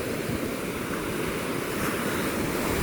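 Black Sea waves crash steadily onto a beach under strong wind, a dense, continuous roar of surf and gusting air with no voices.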